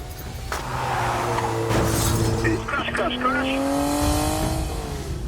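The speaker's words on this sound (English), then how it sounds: "vehicle's nearly lost it on the bridge." A car skids and nearly loses control on a bridge during a UK traffic police chase, with tire squeal and revving engine through several seconds of busy road noise, under raised voices.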